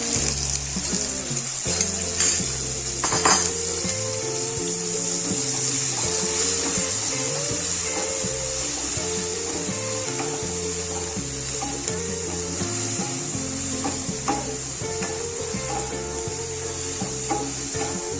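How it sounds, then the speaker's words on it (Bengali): Soybean chunks fry in white oil in a pan, giving a steady sizzle and crackle that is joined by stirring, scraping and knocking of a utensil, with no one talking. "সয়াবিনগুলো ভেজে নেব।"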